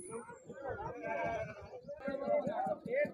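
Goats bleating at a crowded weekly livestock market in Siddipet, several wavering calls rising over a dense background of voices and market chatter.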